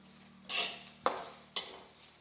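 Onion being slowly roasted and stirred in a pan while making onion-garlic masala, with a few distinct spatula scrapes and clinks over a faint steady sizzle, close by and fairly quiet.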